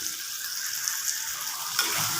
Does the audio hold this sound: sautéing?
yes